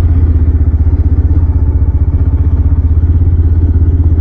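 A motorcycle engine idles loud and close beside a temple gate, its steady low thumping pulse chugging evenly throughout with no voices.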